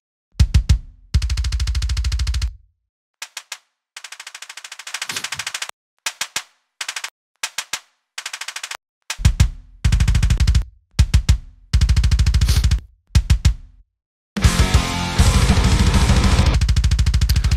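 Rapid, machine-gun-like kick drum hits triggered from a sample, loud and dry, arriving in tight bursts and rolls separated by short gaps, ending in a sustained dense barrage.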